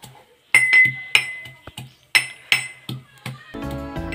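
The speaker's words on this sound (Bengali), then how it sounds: "এই যে হেমানদস্তিতে দেখো আদাটা থেতো করে নিচ্ছি" A metal pestle pounds ginger in a metal mortar, giving about a dozen sharp, ringing clinks at an uneven pace, loud and near, before a softer run of rapid tapping at the end.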